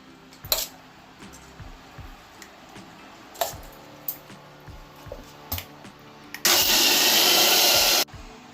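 A wet grinder whirs loudly for about a second and a half, grinding soaked urad and chana dal, preceded by scattered clinks and taps of utensils.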